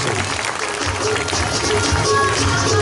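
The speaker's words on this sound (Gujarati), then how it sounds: "જોરદાર તાળીઓના ગગડાટથી વધાવી સ્વાગત" A crowd at a Janmashtami festival program claps steadily to welcome guests, a thick, even wash of applause that holds at full strength throughout.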